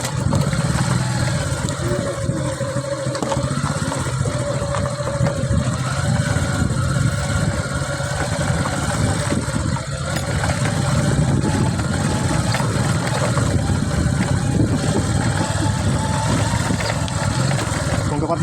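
A motorcycle rides slowly down a rocky barangay road, its engine a steady low rumble with rough, bumpy texture, held throughout under a voice.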